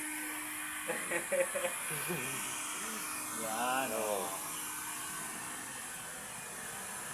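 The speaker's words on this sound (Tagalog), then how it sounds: "Yan ang blower at yan nagbo-blower." A blower runs with a steady, even hiss during a paint retouch job on a Mirage car using SRA thinner, continuous and moderately loud, with someone speaking briefly over it.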